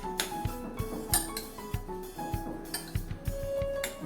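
A spoon scrapes and clinks in a bowl of beetroot salad, mixing it with soft irregular taps and light rubbing close by, with no talking.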